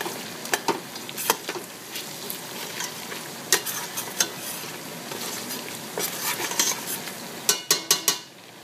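Meats for an okra stew sauté in a hot pot, a steady sizzle running throughout under sharp, repeated scrapes and clinks of a stirring utensil against the pan, close and with no talking.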